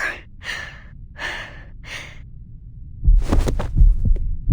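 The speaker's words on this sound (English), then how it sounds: "feeling her heart pounding louder and louder." A pounding heartbeat in the Reverse 1999 video game comes in as heavy, deep thumps after a few breathy swells, loud and close, with the throbbing growing stronger toward the end.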